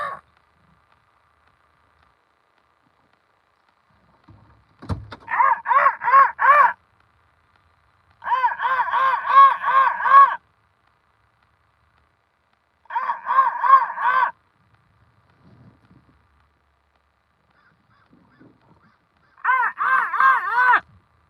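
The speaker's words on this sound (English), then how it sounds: "Here comes a crow to fly over my head again." A crow caws several times while flying overhead outdoors, the calls arriving in four separate bursts of rapid harsh notes with quiet gaps between them, fairly clear against a still background.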